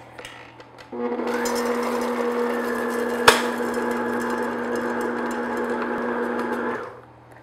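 An electric mixer hums steadily for about six seconds while stirring chocolate chips into cookie batter, with a single sharp clunk midway, then winds down and stops.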